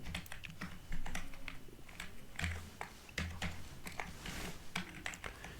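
Rapid, uneven keystrokes on a computer keyboard while writing Rust code, close and clear, with quiet low room hum and a faint low voice in the background.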